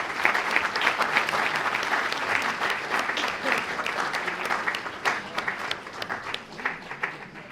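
At a theatre festival of short plays, the audience gives the performing companies sustained applause, a dense and lively clapping that rises and falls slightly without a break.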